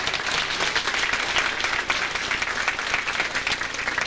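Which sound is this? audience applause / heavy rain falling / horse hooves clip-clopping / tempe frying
audience applause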